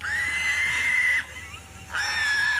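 Loose pig squealing loudly as a police officer catches it, two long high shrill squeals with a short quieter gap between them, close and continuous.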